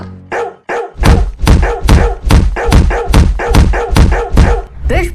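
Rapid string of loud, close barks from a dog in a Hindi comedy cartoon, about a dozen sharp yaps in quick rhythm after a couple of initial thumps.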